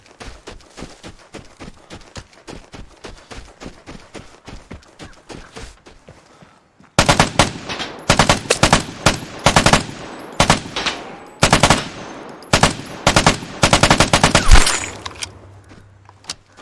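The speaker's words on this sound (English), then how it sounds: "but then heard shots on my left." Rapid gunfire in the video game Hunt: Showdown: a long run of sharp, close shots at first, then a series of much louder, heavier bursts, with short gaps between them.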